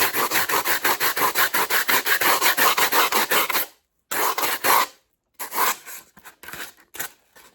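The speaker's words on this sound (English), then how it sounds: "Sandpaper." Sandpaper rubs over sculpting foam in quick, rhythmic rasping strokes, close and loud, first in a steady run and then in shorter, broken bursts with pauses between.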